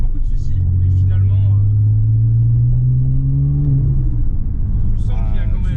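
A tuned Porsche Cayman TechArt engine rumbles steadily and close, its pitch climbing slowly as it revs under load, with someone talking over it at moments.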